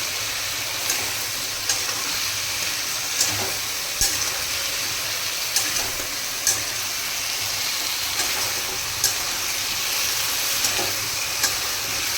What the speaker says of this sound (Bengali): আলু আর গাঁটি কচুটাকে ভালো করে ভেজে নেব।